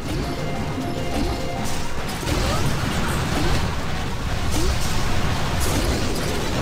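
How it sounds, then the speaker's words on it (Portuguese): Boom Beach battle with a mech army, where bombs explode in dense, continuous crashing blasts and rumbling impacts that fill the whole stretch, with the game's noise constant and heavy throughout. "Vai levar mais uma bombinha."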